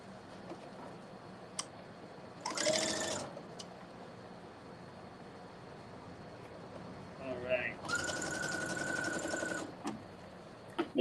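A sewing machine stitches organza for a handbag in two short runs of fast, whirring mechanical clatter. A few clicks and quiet handling noises fill the gaps between the runs.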